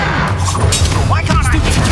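Spell-casting combat in the video game Hogwarts Legacy, dense crackling magical blasts and booming impacts in quick succession, loud and close, with a voice heard over them.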